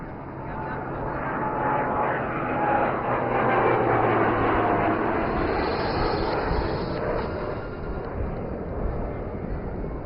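Steady engine roar of a maritime patrol aircraft flying past at the Aero India 2025 flying display at Yelahanka Air Force Station, Bengaluru, a sustained loud drone heard under a commentator's voice.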